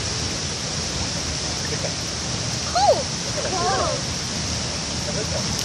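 A waterfall stream rushes in a constant broadband wash close by. A voice briefly sounds over it near the middle.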